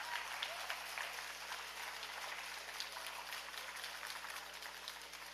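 Steady applause from the audience at a political party convention in Nevis, honouring General Nisbet and the health team, with many hands clapping evenly at moderate distance and no speech over it.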